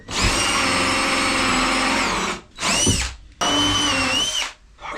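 A power drill bores holes into wooden boat floor timbers in three loud, whining bursts, running steadily before stopping twice between runs.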